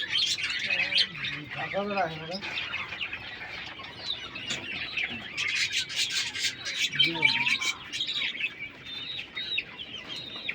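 King quail in a breeding setup call with shrill squawks and short rising chirps, close and continuous, while someone talks over them.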